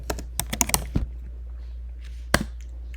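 Password typed on a MacBook Air keyboard: a quick run of soft, close key clicks, a short pause, then one firmer keystroke, quiet room.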